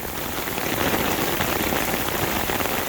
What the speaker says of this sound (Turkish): şu an araç içinde yağmur sesinden kendi sesimi duyamıyorum